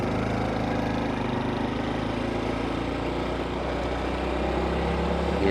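Honda CT125 motorcycle engine running steadily while riding along a countryside road in Thailand, a continuous close mid-pitched putter with wind noise and no pauses.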